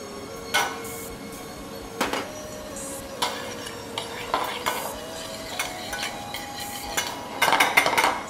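Chopped shallots fry in melted butter in a pan, a soft steady sizzle under repeated clinks and scrapes of a utensil stirring against metal, close, with no talk over it.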